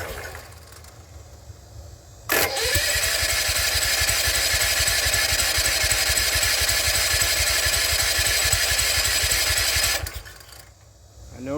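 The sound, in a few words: engine with wobbly crankshaft starting on choke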